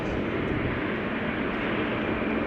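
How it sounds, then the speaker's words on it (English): KLM Boeing 777-300 airliner on the move at Amsterdam Schiphol Airport, giving a steady, even jet engine roar that stays constant throughout. "KLM Asia on the move. That's another 777-300."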